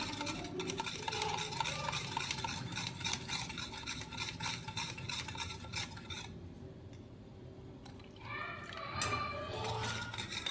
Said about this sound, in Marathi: थंड दूध घालून हे मी छान असं मिक्स करून घेतलेलं आहे